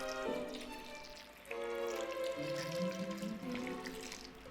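Water pours steadily into a pot holding chicken scraps, cut vegetables and bay leaves for a consommé, a close, continuous splashing fill whose pitch rises as the pot fills, with no talking.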